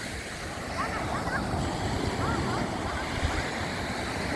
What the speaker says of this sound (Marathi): खळखळाट आहे लाटांचा आवाज.